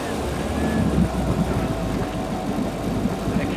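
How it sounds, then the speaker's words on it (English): A 5.7-litre 350 MerCruiser-type V8 of 345 horsepower turning over on a RescueMate supercapacitor jump starter with a dead 8-volt battery, a loud, dense, continuous engine rumble running steadily throughout. "the Kanga fires over even a 350 Monsoon 345 horsepower engine"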